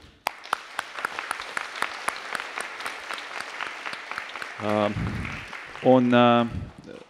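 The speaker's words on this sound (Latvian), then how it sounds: "tāpēc skaļi aplaus tieši jums" Audience applause at a Latvian reading festival event, steady clapping filling the room for several seconds, with a voice speaking over it toward the end.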